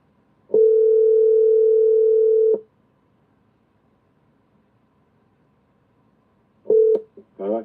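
A telephone dial tone follows a finished call: a steady, loud electronic tone holds for about two seconds, then silence, then a shorter burst of tone cut off by a few clicks.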